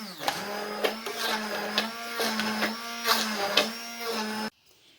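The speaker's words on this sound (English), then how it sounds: "So I have my stick blender here" A stick blender whirs steadily with a loud motor hum, pulsing slightly as it churns through soup, then cuts off abruptly near the end.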